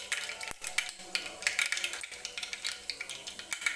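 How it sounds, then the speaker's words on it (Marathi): Mustard seeds hit hot oil in a pan while making spicy chakolya, giving a quiet, irregular crackle of sharp pops and sputters that keeps going throughout. "तर आता आपण मोहरी टाकून घेऊया याच्यामध्ये. हे बघा, आता तेल छान गरम झालेलं आहे."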